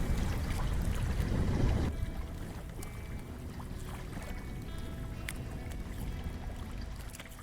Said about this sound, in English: we've got a trawler coming in and a boat right ahead of us